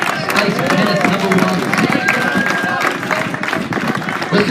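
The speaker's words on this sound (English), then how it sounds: "Ladies and gentlemen, a round of applause" Spectators applaud after a women's bowls match result, dense clapping mixed with crowd chatter and an announcer talking over it.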